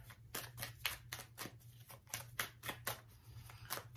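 Tarot cards are shuffled by hand in a quick, regular run of crisp riffling bursts, close and fairly quiet, with no talking.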